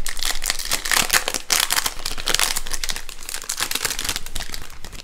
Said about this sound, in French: On va ouvrir le pack déjà.